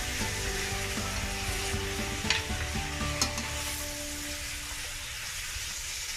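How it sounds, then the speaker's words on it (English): Mutton sizzles steadily as it cooks with spices in a pot for a curry, a continuous close frying hiss with a few brief sharper crackles and no talking. "all the juices from the meat will start releasing, and it will start cooking with the spices"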